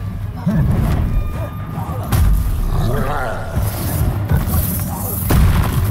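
Confringo fire spell cast in the Hogwarts Legacy video game, with heavy booming blasts and thuds landing at about half a second, two seconds and five seconds, over game music and character voices talking.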